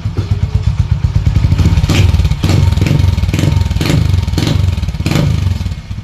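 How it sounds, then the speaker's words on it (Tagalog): A Honda 125 motorcycle fitted with a stainless chicken-pipe exhaust revs repeatedly up close, the engine burbling loudly between several sharp throttle blips with no talk. "Ayan po yung pinakaingay ng ating chicken pipe. Halos tunog stock lang siya, naging stainless lang."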